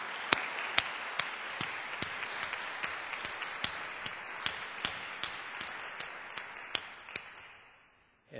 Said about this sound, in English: Let's have another round of applause for Accordo.